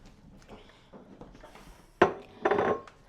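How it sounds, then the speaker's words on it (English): Chopped onions tumble into melted butter in a pan with a sudden clatter and soft rustle, preceded by quieter kitchen clinks. "I'm going to go ahead and dump in my onions"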